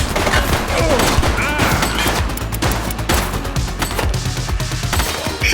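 Heavy gunfire from a police shootout in The Precinct video game, with a rapid barrage of loud overlapping shots and impacts continuing without let-up.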